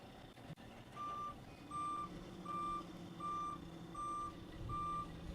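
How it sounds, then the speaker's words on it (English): A self-propelled modular transporter carrying a SpaceX Starship booster at Starbase rolls along, its reversing alarm beeping in a steady series of six evenly spaced tones over a low engine rumble, heard from a moderate distance. "this is riding on a SPMT, also known as a self-propelled modular transporter"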